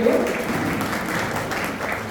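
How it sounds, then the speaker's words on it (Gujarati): An audience at a Gujarati literary gathering breaks into loud, sustained applause, a dense wash of clapping that stays strong for the whole stretch, with a faint voice underneath. "જોરદાર તાળીઓ."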